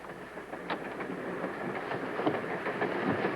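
A train rumbles along the rails at a distance, a low steady roll with faint rhythmic clacks, fairly quiet and with no voices.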